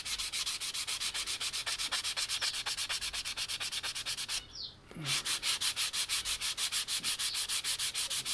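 A coarse-grit sanding sponge rubs dry over the plastic of an AMT USS Enterprise model kit in fast, steady back-and-forth strokes, close and even, with one brief pause midway.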